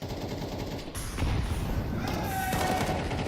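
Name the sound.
AK rifle spraying gunfire in a video game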